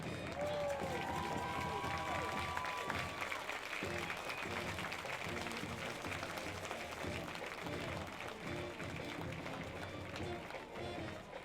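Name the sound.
crowd applauding the state champions at a football game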